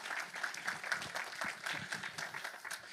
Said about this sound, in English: Can I have a round of applause for our judges?